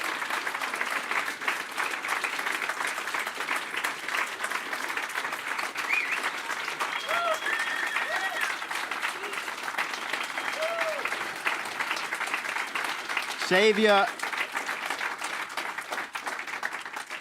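Sustained applause from a large crowd at a political party conference fills the whole stretch, steady and full, with a brief whistle or cheer near the end.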